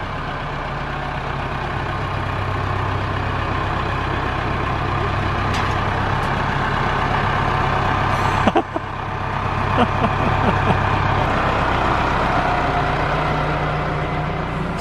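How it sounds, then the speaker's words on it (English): A tractor engine rumbles steadily and loudly nearby throughout, with a brief clunk midway and some faint voices under the noise. "Sarah, follow that tractor."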